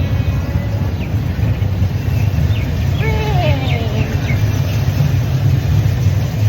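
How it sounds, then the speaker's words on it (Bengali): A small amusement-park ride train running at a park in Rajshahi produces a steady low mechanical rumble, with faint bird chirps and insect-like ticks scattered over it and no talking. "ট্রেন অলরেডি অন হয়েছে।"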